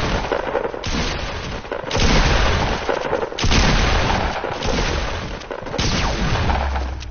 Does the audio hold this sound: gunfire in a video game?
yes